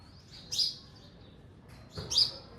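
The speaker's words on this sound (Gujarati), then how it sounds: "કેટલા છે કબૂતર છે ખિસકોલી છે ચકલા છે પાર વગરના બધા ભેગા થયા છે એકસાથે" Two short bursts of pigeons and sparrows chirping a second or so apart, over a low background hum, in a village.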